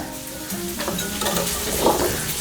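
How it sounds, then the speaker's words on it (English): Bacon sizzles on a Blackstone griddle in a continuous, crackling hiss. It is mixed with faint clinks of utensils and stays steady throughout with no talk. "While that bacon is cooking away"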